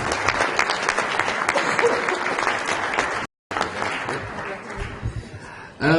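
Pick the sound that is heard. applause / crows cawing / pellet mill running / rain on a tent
applause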